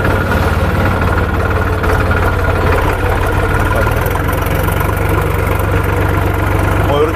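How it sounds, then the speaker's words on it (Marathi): A tractor engine idles steadily, a low continuous rumble with a faint knocking pulse, close and loud throughout with no pauses. "ट्रॅक्टर आतमध्ये घेऊ"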